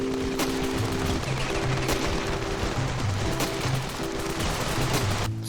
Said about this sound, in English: here's one shooting a rocket launcher at point-blank range, killing itself and everyone around it